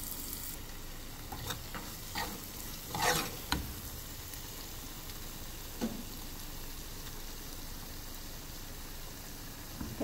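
Drumstick leaves frying in oil while being stirred, a continuous close sizzle with a few scraping spoon strokes near the start and scattered light clinks, no talking.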